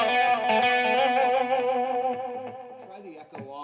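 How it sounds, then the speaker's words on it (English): Electric guitar played through a Blackstar amp's boutique clean channel with echo, loud sustained ringing chords with repeats trailing off and a brief pause near the end. "So keep that echo on, and we're going to go to Boutique Clean"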